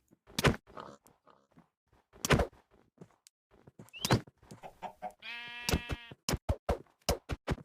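In Minecraft, a compressed cow mob gives off sped-up, squeaky bleat-like and clucking calls, short bursts scattered among thumps and game effects, with one drawn-out buzzy tone in the middle.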